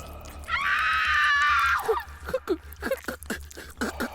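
A woman lets out one long, shrill scream lasting over a second, followed by quick, breathy speech.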